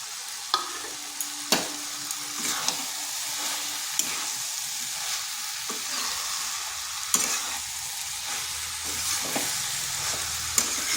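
Soya chunks are stirred into boiled potatoes and cabbage in a pan, a steady sizzle broken by repeated scraping spoon strokes and light knocks, close up with no talk.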